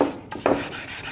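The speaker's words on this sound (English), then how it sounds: "you just can't sit there and sand over the edges and all around, because all you'll do is round over all your corners" Sandpaper wrapped on a wooden sanding block rubs over the wood of a footstool, giving a brief, close, soft rasping stroke or two.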